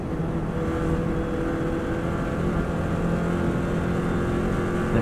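A Subaru WRX STI runs flat out in sixth gear on an Isle of Man road lap, its engine a loud continuous roar heard close from onboard with wind rush, no talk.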